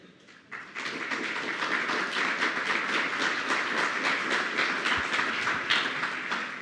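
Audience applause at an evening healthcare event fills the room after a quick start, a dense steady clatter of many hands that holds loud throughout.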